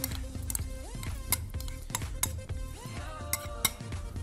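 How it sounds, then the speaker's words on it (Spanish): A spoon clinks and scrapes against a bowl as pumpkin purée, squash purée and ricotta are scooped in, with repeated close metallic taps and knocks in an uneven rhythm, no voices. "Vamos a agarrar una cuchara para ir poniendo los ingredientes en este bowl."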